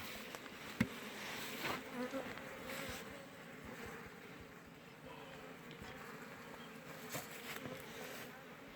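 Honeybees hum softly and continuously around a four-compartment hive, with a few louder buzzing passes close by and occasional light knocks.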